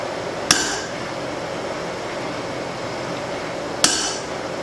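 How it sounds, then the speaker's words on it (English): Two sharp hammer blows ring out on a punch driven through a hot spring steel cleaver blank, spaced about three seconds apart, each a bright metallic strike with a short ringing decay over a steady low shop hum. "And I punch my hole."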